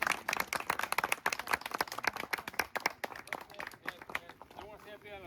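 A small gathering claps at the unveiling of a memorial to a grandfather who was a cooper, brisk uneven clapping for several seconds that thins out as voices continue over it.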